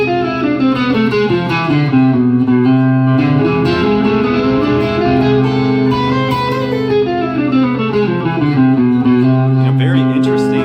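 Distorted electric guitar runs the Ionian sharp 5 mode of A harmonic minor over a sustained chord, notes climbing and falling in smooth melodic lines over a loud, continuous bed of tone.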